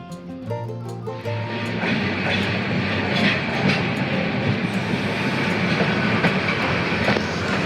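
Jamalpur Express passenger train running toward Joydebpur station, a loud continuous rumble with rhythmic clickety-clack of the wheels heard from on board, after a brief tonal horn-like sound at the start.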